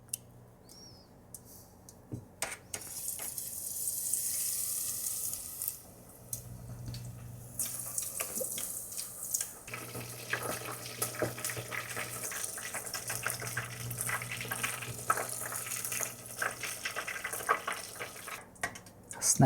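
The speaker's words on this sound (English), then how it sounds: "Okay, let's fry them in oil." Shrimp tempura hisses and sizzles in hot oil, a steady crackling bubble that swells after the pieces drop in, with occasional clinks and quiet talk in the background.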